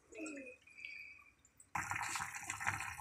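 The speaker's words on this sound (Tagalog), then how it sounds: "Sige, lalagyan ng tubig natin." Water is poured into a cooking pot for pork pochero, a steady close splashing and filling sound that starts abruptly after quieter kitchen noises.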